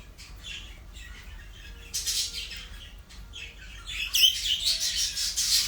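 English budgerigar chicks and adult birds squawking and chirping in an aviary at a breeding farm, with several scattered bursts of calls rising louder toward the end over a low steady background hum.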